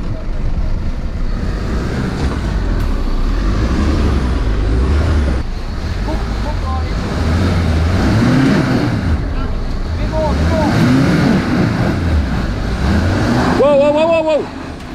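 A 4WD on BF Goodrich tyres labours up the steep Palm Creek track on Cape York, its engine droning loud and steady with rising revving surges as the wheels lose traction, while people talk over it.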